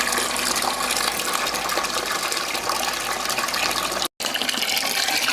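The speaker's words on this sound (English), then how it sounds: "the flow is slowing down a little bit, and the water level is pretty low now" Water rushes steadily into a home aquaponic grow bed, a loud continuous gush heard close up that cuts out for a moment near the end and then resumes.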